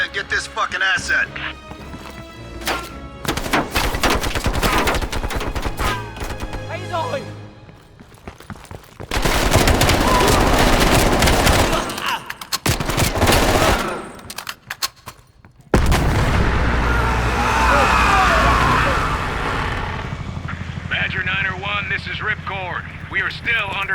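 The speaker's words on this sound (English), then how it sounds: "We are still under heavy fire." Dense bursts of rifle and machine-gun fire crackle through a heavy firefight in Call of Duty Black Ops Cold War, loud and nearly continuous with brief lulls, under radio chatter and explosions.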